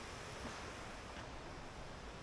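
Waterfall cascades at Padley Gorge pour in a steady, dense rush of water, loud and close, with no pause or variation and no voices.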